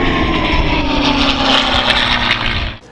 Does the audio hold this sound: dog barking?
no